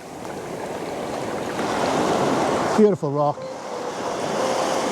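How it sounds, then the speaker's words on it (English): Sea water washing in and out over rocks on a coast, a broad rushing surge that swells and recedes under wind, with someone speaking briefly in the middle. "I'm not going to stop taking images as this water comes in and out"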